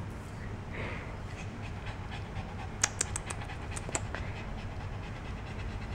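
A dog pants rapidly and steadily while chasing its tail, with a few scattered clicks and light taps over low room noise and no talking.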